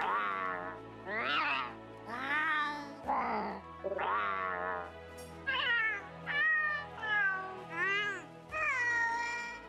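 Meowing cat companion voices from the Monster Hunter: World character creation screen, about eight separate clear meows in a regular sequence, close and loud, with varying pitch and no talking over them.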